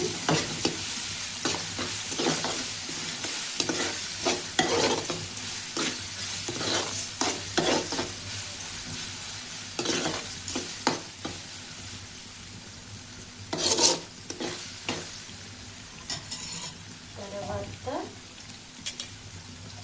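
Ginger paste with a little turmeric sizzles in a hot pan. A utensil stirs and scrapes it in frequent irregular strokes over a steady frying hiss, heard close and fairly loud with no speech.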